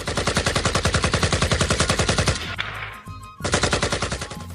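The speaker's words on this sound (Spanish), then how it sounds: "cuando empezaron a oírse disparos" Rapid automatic gunfire rattles in long continuous bursts, loud and close, breaking off briefly into a rumbling echo before another burst resumes.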